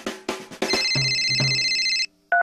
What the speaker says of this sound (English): please take a moment to turn off all cell phones so they don't ring during the show and disturb others.